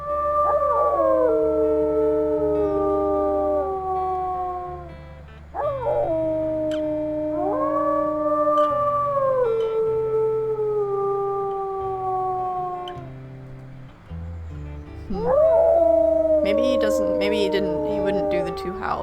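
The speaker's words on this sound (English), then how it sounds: "What about a 2 howl?" Wolves in the WolfQuest video game's Crystal Pack let out long rising-and-falling howls, several voices overlapping in a loud harmonized chorus that repeats three times over a low background music drone.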